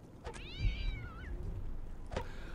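A cat meows once, a rising-then-falling, drawn-out cry in the video game Postal 2, moderately close over a low, steady game background with a couple of brief clicks.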